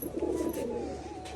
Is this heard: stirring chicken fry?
no